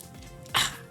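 A single short, sharp cough bursts out close by against a quiet background, one brief harsh expulsion from a coughing fit.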